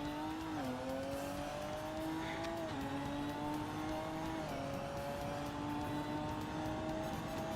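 A race car engine droning steadily in the Assetto Corsa racing game, holding a constant tone with small dips and rises in pitch as the revs shift, heard from inside the car without talk.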